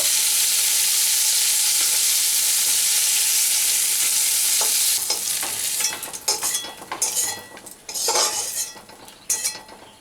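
Bitter gourd fries in oil over a high flame, giving a loud continuous sizzle at first that then breaks into clinks and scrapes of a utensil stirring against the pan.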